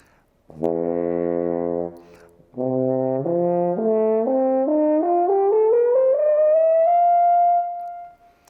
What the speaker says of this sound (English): The horn overblows the overtone series, which sounds like this.